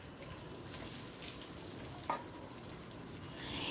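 Chopped onions frying in hot fat in a pan, a steady close hiss of sizzling with a brief clack of a utensil partway through and the sizzle swelling slightly at the end.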